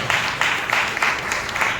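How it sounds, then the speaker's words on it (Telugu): A church congregation at a joint worship service claps together to praise the Lord, a dense, fairly loud, close ovation with irregular surges of hand claps throughout. "మనం చప్పట్లు కొట్టి ప్రభువుని మహిమపరుస్తాం"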